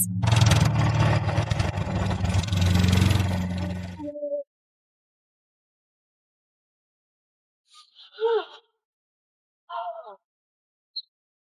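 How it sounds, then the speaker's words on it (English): A large full-size tractor engine from 1982 farm life runs loud and rough for about four seconds, then cuts off, leaving silence broken by a few brief bits of talk. "coming back with a full-size tractor!"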